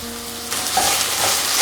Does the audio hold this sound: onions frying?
yes